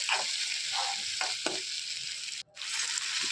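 Chopped onions and a large tomato, salted, sizzle steadily in a pan while being stirred, with a few brief scraping strokes and a momentary dip in the hiss.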